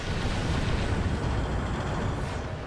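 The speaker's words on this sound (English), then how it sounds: "I dodged his explosion, and he didn't fire anything else, but something just exploded anyway." An explosion in the video game Destiny produces a loud, sustained broadband roar that rumbles evenly for a few seconds before tapering slightly.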